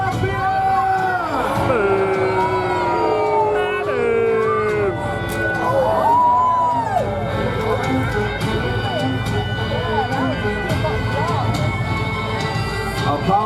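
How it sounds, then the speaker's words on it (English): A crowd at a jousting show at Warwick Castle cheers and shouts for a champion. The mass of raised voices is loud and continuous for over thirteen seconds, with a low steady rumble underneath. "Lancastrians, a cheer for your champion!"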